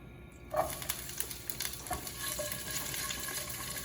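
Whole bunch of asparagus sautéing in hot oil in a pan, a steady close sizzle with a sharp burst as the spears go in, then crackling and scattered pops throughout, no voices.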